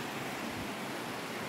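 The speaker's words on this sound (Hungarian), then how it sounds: "Itt egy kis patakocska megy." Small stream of water trickling through a cave in the Scottish Highlands, a steady soft broadband wash of flowing water with no break, heard alone at low level.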